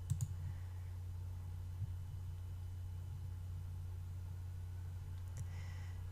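A computer mouse gives a couple of faint, sharp clicks, one at the start and one near the end, over a low, steady electrical hum at a desk.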